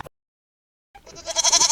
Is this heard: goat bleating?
yes